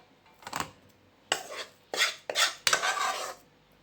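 A metal thali plate is picked up and handled in a home kitchen while mohanthal sweets are being made, giving several sharp clanks and scraping rattles in quick bursts, close and fairly loud, with no talking.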